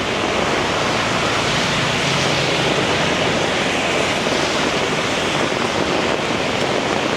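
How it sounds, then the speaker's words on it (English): A constant, loud roar of heavy surf on a beach in Da Nang, Vietnam, during a rainstorm, a dense wash of crashing water with no pauses, close and overwhelming. "the waves are very strong"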